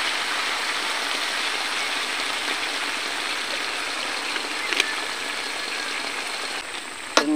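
Water poured into a cooking pot for boiling vegetables, a steady hissing, splashing stream that runs evenly for several seconds, ending with a faint clink near the close.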